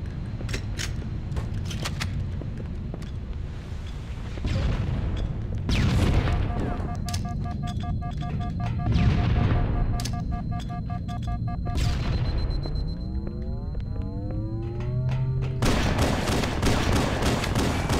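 Shotgun blasts and rocket explosions in the first-person shooter Halo: Combat Evolved, several heavy booms and sharp shots scattered across a busy soundscape of in-game tones and effects.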